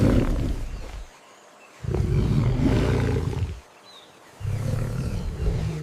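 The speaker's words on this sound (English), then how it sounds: "It's a jaguar." A jaguar gives three deep, rasping roars, each lasting a second or two and separated by brief silent gaps, loud and close.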